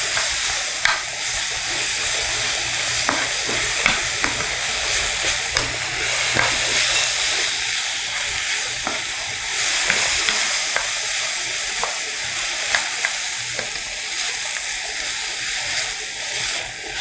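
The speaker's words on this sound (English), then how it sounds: "And you fried it all together." Glass noodles and vegetables for japchae stir-fried together in a pan: a steady close sizzle runs throughout, broken by repeated sharp clacks and scrapes of stirring.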